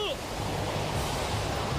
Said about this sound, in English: Oh, the water's gonna wash them down!